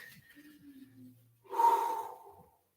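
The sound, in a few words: deep breathing during yoga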